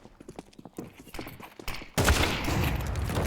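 Rapid gunfire rings out in a Counter-Strike match at an ESL Pro League event, a dense volley of close, loud shots that starts abruptly and carries on steadily to the end, after some softer earlier sounds.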